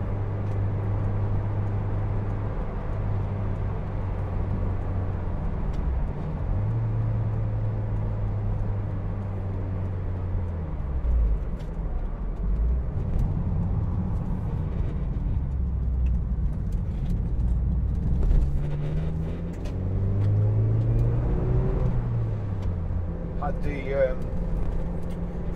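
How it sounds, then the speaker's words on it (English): A Mazda MX-5 1.8 two-door convertible drives along with its engine and exhaust giving a steady low drone that resonates from behind the seats near the folded hood. The pitch rises and falls with speed, and a voice is heard faintly at times. "Exhaust, it resonates at the back and sets the trim off."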